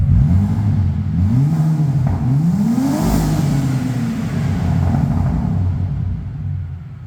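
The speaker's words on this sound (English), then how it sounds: "It's very popular for the Aeros to delete the mufflers because the V6 sounds so good" A Saab 9-3 Aero V6 with its mufflers deleted, revved several times in quick, rising blips, loud and close, before settling back to a steady idle.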